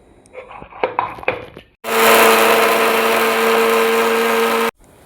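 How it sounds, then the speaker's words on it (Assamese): A few light clattering knocks, then a mixer grinder making spice paste roars loudly and steadily for about three seconds before cutting off abruptly. "গোটেইখিনি মিক্সিৰ বাতিত দি পেষ্ট বনাই ল'ব"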